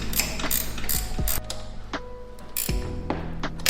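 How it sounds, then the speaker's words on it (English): Spanners turning the 10 and 13 mm bolts on the front shocks of a FunBikes Ranger 1000W electric bike, giving close, repeated metallic ratcheting clicks and clinks in bursts, with no talking. "So now you can grab your spanners, your 10 will be on this side,"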